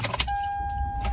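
A car is driving along a street on a hot day, its steady road and engine rumble continuous and close throughout, with a thin steady interior tone and a brief rattle near the start.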